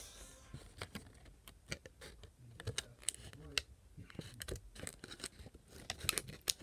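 Scissors snip at a thin plastic cup plate from Wingstop, giving a series of sharp, close clicks and crisp cuts at an irregular rhythm.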